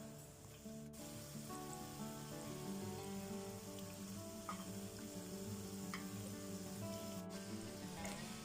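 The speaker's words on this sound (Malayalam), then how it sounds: "അപ്പോൾ നന്നായിട്ട് ചൂടായിട്ടുണ്ടെങ്കിൽ ഫ്ലെയിം കുറച്ച് വെച്ചിട്ട് ഫ്രൈ ചെയ്തെടുക്കുക" Chicken pieces frying in hot oil over a low flame, a steady soft sizzle with fine crackling pops running throughout, fairly quiet and alone with no talking.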